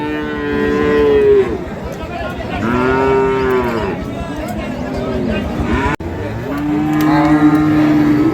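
Sahiwal bulls at the Ambari livestock market in Dinajpur low loudly and close by, with several long drawn-out moos in a row against a busy market background and people talking.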